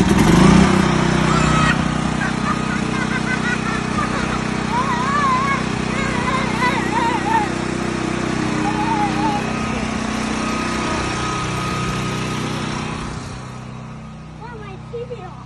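A portable generator engine runs steadily and loudly, a constant rumbling drone that carries on for most of the stretch and then cuts off near the end, with people talking over it.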